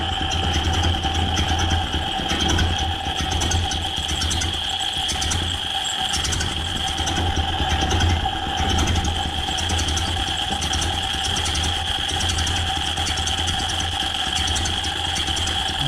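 A Ford Model A barn-find engine chugs at a steady idle, loud and close, its low even rumble running unbroken for the full stretch with no talking.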